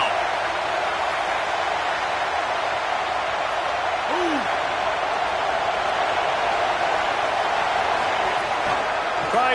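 A football stadium crowd roars as a continuous loud wash of cheering and noise, with a commentator talking over it.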